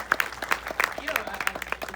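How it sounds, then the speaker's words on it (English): A live audience at a New York Q&A for the film "The Age of Disclosure" claps for Jay in a brief, moderate round of applause, with a voice talking over it. "we want to give another round of applause for Jay"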